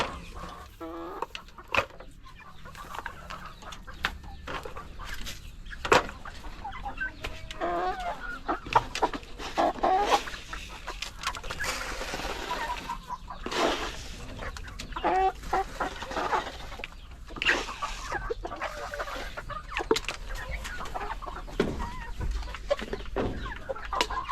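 A flock of brown Rhode Island laying hens clucking and murmuring steadily in a farm coop, with overlapping calls near and far and occasional sharper squawks.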